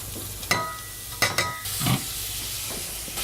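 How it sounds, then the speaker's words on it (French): Chopped leek frying in a little olive oil in a pan, with a steady low sizzle broken by a few sharp clacks and scrapes of stirring, close up and with no talking. "Je mets un peu d'huile d'olive. Ensuite, tout mon poireau coupé en petits morceaux."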